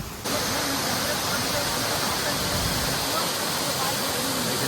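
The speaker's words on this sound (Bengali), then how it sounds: "উপর থেকে ঝর্ণা এসে পড়ছে আর এই দিক দিয়ে বই নিচে চলে যাচ্ছে" A waterfall at Kolbong near Kalimpong in North Bengal pours down in a loud, steady, broadband roar that begins after a brief quiet moment and continues unbroken.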